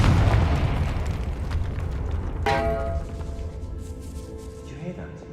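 A spell explosion bursts in the Hogwarts Legacy video game with a deep boom. It rumbles, then rings out into a fading tonal tail, and talk is heard around it.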